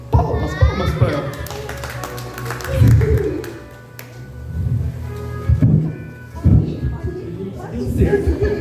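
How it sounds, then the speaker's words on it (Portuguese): An audience claps for a girl during a children's worship service at a church in Boituva, with irregular bursts of applause mixed with children's voices and thumps, partly under talk. "Palmas pra ela."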